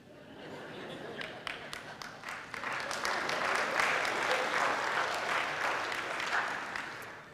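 A church congregation applauding, with clapping that starts scattered and builds into steady, dense applause filling the room, and some faint voices mixed in.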